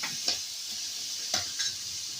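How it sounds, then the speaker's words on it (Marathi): Chopped onion frying in a little oil in a pan on the stove, a steady soft sizzle with a few brief stirring scrapes and clinks, no talking. "कांदा टाकून घेतला पहिल्यांदा त्याच्यानंतर वरून थोडीशी एक वगळी तेलाची टाकलेली आहे"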